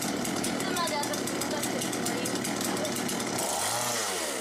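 A chainsaw runs steadily and loudly throughout with a rough buzzing drone, as if playing from a film, while people talk over it.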